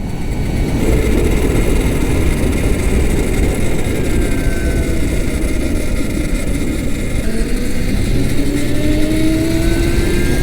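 Electric cafe racer motorcycle cruising at about 57 mph, a steady loud rush of wind and road noise with a faint rising whine drifting through, continuous and close with no talking.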